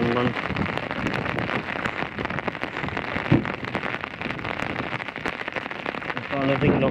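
Heavy rain pours steadily during a thunderstorm, drumming loud and dense on nearby surfaces, with a few sharper drops and knocks standing out in the close, continuous downpour.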